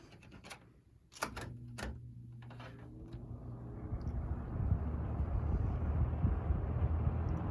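A Robeson Evenflow electric fan is switched on after a few clicks and knocks, then spins up into a steady, close airy rush that grows louder and holds, with no talking.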